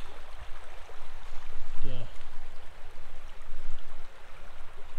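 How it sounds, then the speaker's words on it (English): A creek with a good flow near a picnic shelter at the historic Dunlap coke ovens gives off a steady broadband rush of running water, close and continuous, with a brief low rumble partway through. "This is that creek."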